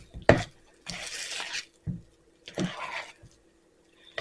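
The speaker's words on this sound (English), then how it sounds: "you want to scrape the bowl" A spatula scrapes around a mixing bowl of gluten-free, dairy-free banana nut bread batter in several separate passes, each a soft close scrape with brief thuds in between and quiet pauses.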